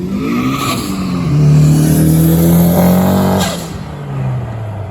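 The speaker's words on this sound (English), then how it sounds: "just a little drive-by sound clip so you guys can hear how good this thing sounds" A car approaches and passes by with its engine revving hard, rising then falling in pitch as it drives away, loud and fairly close.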